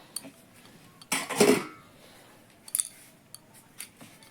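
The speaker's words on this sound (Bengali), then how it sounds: "ঢেকে দিলাম আটাটা" A lid goes over a dish of kneaded atta dough in a home kitchen: one close, scraping clatter of metal, then a couple of faint light clinks after a pause, with no talking.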